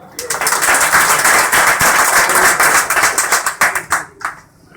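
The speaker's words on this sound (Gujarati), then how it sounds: "તો એકવાર જોરદાર તાળીઓ વગાડો" Audience applause at an insurance seminar, loud and dense for about four seconds before trailing off into scattered claps.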